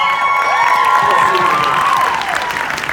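Crowd applause with some cheering fills the clip steadily at an event where a speaker asks the audience to clap, loud and sustained, with a voice rising over the noise.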